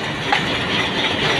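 A train passes on a journey from Islamabad to Jhang. Its steady loud rumble and rushing roar fill the whole stretch without a break.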